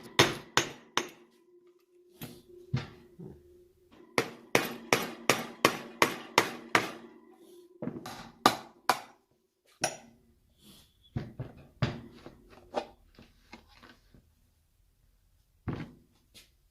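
Hammering on a bolt on an HVAC gearbox assembly, a series of close, loud metallic strikes in quick clusters with short pauses between, ringing briefly after each blow.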